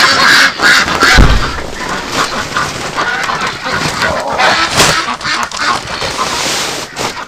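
A crowd of wintering ducks quacks continuously in a dense, overlapping chatter during extreme cold, loud and close, with occasional louder calls standing out from the flock.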